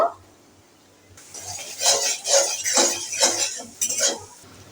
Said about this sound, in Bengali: মশলাগুলো আমি ভালোভাবে কষিয়ে নেব